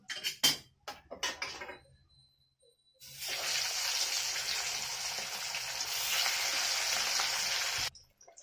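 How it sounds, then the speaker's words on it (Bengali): Hilsa fish pieces fry in hot oil in a kadai. After a few soft clinks and a quiet pause, a loud, steady sizzle starts and runs for about five seconds before cutting off abruptly. "আমি দুটো দুটো করে ভেজে নেবো"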